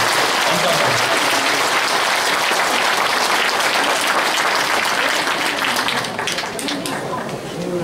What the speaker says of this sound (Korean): 우리 이재호 개헌 전도사님께 박수 한번 쳐서 쳐주십시오